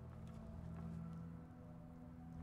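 Rain pouring through a roof in the Fallout 4 video game, a steady soft patter over a constant low hum, alone and even throughout.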